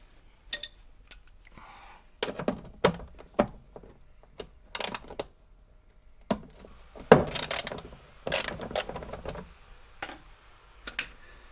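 A ratchet undoes an 8mm bolt on a Ford Mondeo Mk3 ST220 chassis, giving sparse, close clicks and metallic taps in irregular short bursts separated by quiet gaps.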